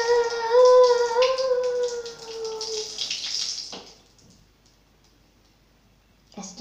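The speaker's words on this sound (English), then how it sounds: "And fill the jug." Hot water pours into a jug with a rising tonal gurgle as it fills, loud and close at first, then fading to near silence with clicking at the end.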